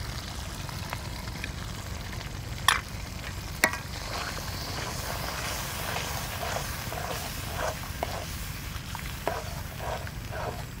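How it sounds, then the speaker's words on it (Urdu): A spoon stirs yogurt into chicken masala frying in a pan, giving a steady sizzle with soft scraping strokes and a couple of sharp clinks, close and continuous without talk. "تو ہلکا ہلکا آپ چمچ چلاتے رہیں تاکہ جو ہے دہی پھٹ نہ جائے"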